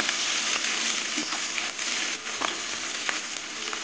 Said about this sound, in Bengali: এবার পেঁয়াজটা একটু ভেজে নেব